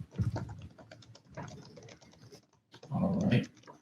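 Quiet bursts of keyboard typing as a search phrase is entered on a computer, clustered clicks in three short groups with pauses between, fairly close and soft.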